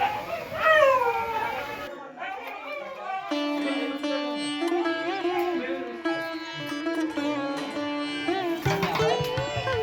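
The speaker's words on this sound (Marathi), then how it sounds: "घरात पाऊल ठेवच्या आधीच ह्या कुत्र्यांचं किले सुरू झाले" Several dogs howl and whine in long rising and falling wails, mixed with yips and some barking, close by at a village house in Konkan, with voices underneath.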